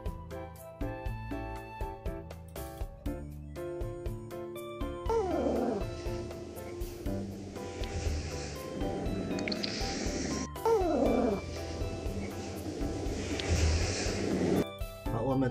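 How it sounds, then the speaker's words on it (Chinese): AI-generated sound effect of a cat meowing over gusting wind with a rubbing, scraping texture, opening with a tonal passage before breathy wind swells and rising meow-like sweeps play out at moderate loudness. "猫叫的声音，还有一个风声，"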